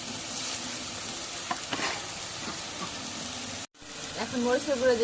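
Cumin paste and garlic paste frying in oil in a pan, a steady sizzle with stirring scrapes that cuts out briefly before a louder burst of sizzling, and a voice talking briefly near the end.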